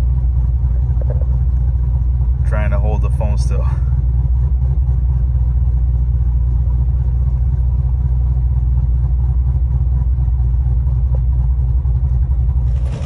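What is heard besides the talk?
cammed C7 Corvette Stingray engine idling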